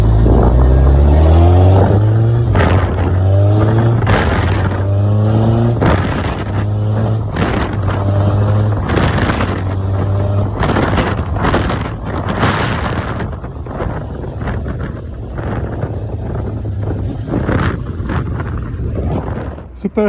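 A 1999 Kawasaki ZX9R motorcycle is ridden hard, shifting without the clutch. The loud engine revs climb repeatedly in pitch and drop at each gear change, under constant heavy wind rush.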